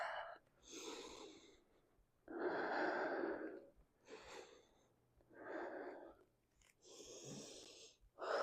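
Deep, slow breathing during a Pilates child's pose stretch, several long close inhales and exhales in a steady rhythm, heard alone without talk.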